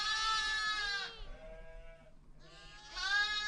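Sheep on the Asian steppe give two long, loud, quavering bleats with a quieter, lower call between them, close by and with no voices.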